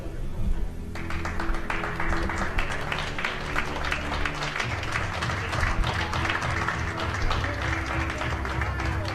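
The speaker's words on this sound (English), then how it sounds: "The applause ringing out for the medalists in the women's 45 kilogram open category" A crowd at a 2015 IPC Powerlifting European Open Championships victory ceremony in Eger applauds the medalists of the women's up-to-45 kg open category, a dense, steady wash of clapping that fills the hall for several seconds.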